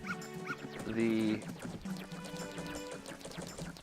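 A dog barks and whimpers in the video game Zelda: Majora's Mask, a few short calls mixed with game music and effects, with a person talking over much of it.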